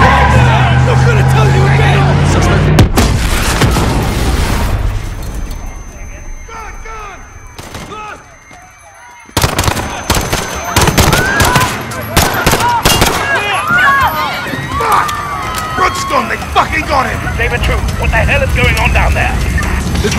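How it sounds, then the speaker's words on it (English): Dense gunfire and blasts erupt in a Call of Duty battle at Piccadilly Circus in London, loud and continuous with chaotic crowd noise, a brief lull midway, then renewed heavy shooting and booms. "Detonation at Piccadilly Circus. Shots fired."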